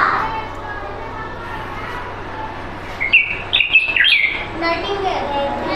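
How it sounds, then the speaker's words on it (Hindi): Nightingale (bulbul) song in a recorded bird call: a short burst of bright chirps and whistled notes in the middle, fairly faint over a steady low background. "नाइटिंगेल मतलब बुलबुल।"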